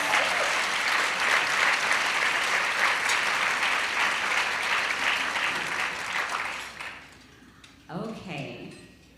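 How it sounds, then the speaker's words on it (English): Loud, sustained applause from a luncheon crowd honoring the servers and staff, steady for several seconds before tapering off, followed by a brief voice. "a big round of applause for all of our servers, the staff, who are union members"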